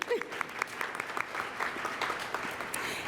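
Audience at a city club luncheon gives a short round of polite applause, moderate and fairly quiet, with scattered individual claps and a brief vocal sound at the start.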